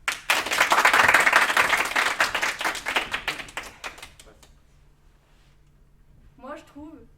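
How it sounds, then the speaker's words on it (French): Audience at a lycée gives applause after a speech, a loud burst of many hands clapping that fades out after about four seconds into near silence before a brief voice. "je trouve que les applaudissements brisent le moment"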